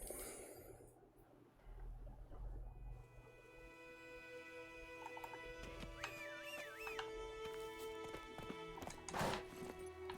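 In The Witcher, Geralt's horse Roach clip-clops along at a steady pace with a snort or two, faint and distant beneath the game's background music, with no voices.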